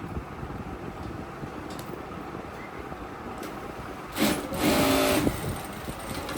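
A sewing machine fitted with a new shuttle hums steadily at close range, briefly speeding up into a louder, higher whir before settling back to its even running drone.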